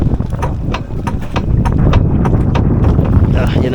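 Broken boat engine knocks from inside with a rapid series of sharp, repeated clacks over heavy wind rumble at sea, loud and close, with speech mixed in.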